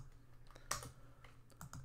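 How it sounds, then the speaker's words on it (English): Keys on a computer keyboard click a few times at uneven intervals, one sharper press standing out, close and quiet with no speech, while working in a Google Sheets spreadsheet. "what I want to do here is press F4 on my keyboard"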